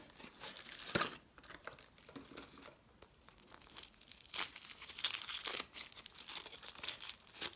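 Foil wrapper of a surprise egg being torn and crinkled open, close up with crackling rustles that grow louder and busier toward the end, no talk.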